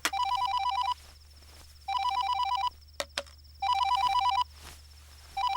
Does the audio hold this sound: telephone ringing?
yes